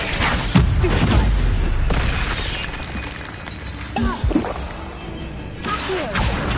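Stupefy spell cast in the Hogwarts Legacy game, a loud whooshing blast with a crashing impact, followed by quieter combat clatter and further magic bursts.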